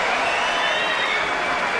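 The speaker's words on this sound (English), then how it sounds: "of a crowd who gave him a standing ovation" A tennis crowd rises in a standing ovation for Rafael Nadal after his 2004 Miami third-round win over Roger Federer, a dense, steady wash of applause and cheering that fills the arena.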